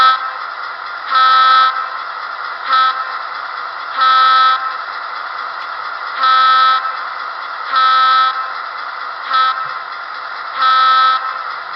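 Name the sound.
HO scale NW2 switcher model train grade crossing horn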